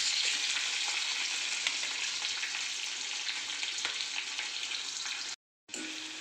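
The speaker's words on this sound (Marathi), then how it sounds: "मंद आचेवर चांगले त्याला परतून घ्यायचे" Curry leaves sauté in hot oil in a pan over a low flame, giving a steady close sizzle and crackle for several seconds, cut by a brief silent gap near the end before the frying resumes.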